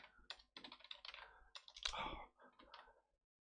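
Typing on a computer keyboard produces a quick, uneven run of clicky keystrokes at close range, fading out at the end.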